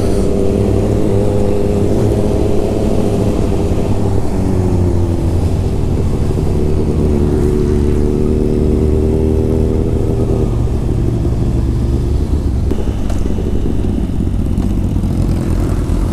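A motorcycle exhaust rumbles and revs steadily for a long stretch, loud and close, holding a throaty drone that dips slightly midway, with no voices.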